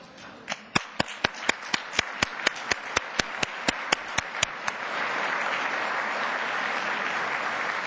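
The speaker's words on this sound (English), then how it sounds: "Could you please stand so we can give you a round of applause?" Applause at a university community breakfast for past award recipients standing in the audience, starting as a few loud, evenly spaced close claps before swelling into a broad, steady wash of clapping.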